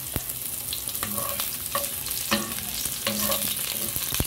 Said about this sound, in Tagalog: Pagisa ng onion at garlic.